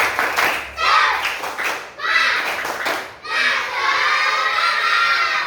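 Children perform a rhythmic 'tepuk semangat' clapping routine in a classroom lesson, with bursts of patterned group clapping mixed with shouted chanting. The bursts come in several loud, close phrases, then give way to a sustained cheer.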